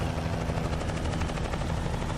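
Helicopter passing overhead in American Truck Simulator, its blades beating in a rapid, even pulse, loud and near throughout.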